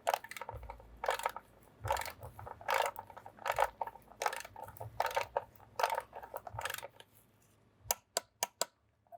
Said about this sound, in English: You want to go ahead and torque this down to 40 Newton meters